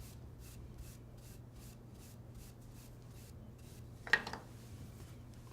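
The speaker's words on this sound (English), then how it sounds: "Brush off the excess flour." Soft, faint brushing strokes sweep excess flour off rolled croissant dough in a quick, steady rhythm, with one brief louder knock near the end and no voices.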